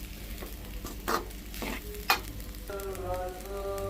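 Carrot rice being stirred and mixed in a pan, with scraping spoon strokes and a couple of louder clanks over a soft sizzle, ending in a faint tonal hum.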